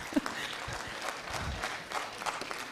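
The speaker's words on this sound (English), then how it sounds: "Can we give His Excellency a round of applause?" At a Pan African youth convention in Kenya, a crowd claps for a dignitary, scattered applause at moderate distance with some thumps and background noise.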